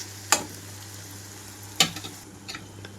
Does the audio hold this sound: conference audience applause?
no